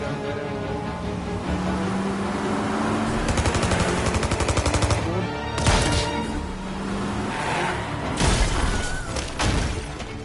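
Gunfire in Mafia: Definitive Edition, with bursts of rapid shots and scattered single cracks over a street scene with a car engine and shattering glass, loud and close.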